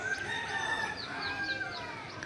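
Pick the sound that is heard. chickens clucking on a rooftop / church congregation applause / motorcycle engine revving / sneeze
chickens clucking on a rooftop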